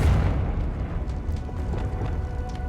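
A Confringo spell explosion in the video game Hogwarts Legacy, heard as a deep, rumbling boom that starts loud and then rolls on as a lower, fading roar with crackling debris.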